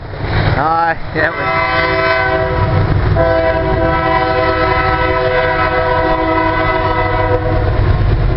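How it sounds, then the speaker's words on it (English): A train rumbles past nearby in Illinois with a loud, sustained horn blast, its steady tonal blare held over the heavy rolling rumble of the wheels. "folks, that is a train coming through"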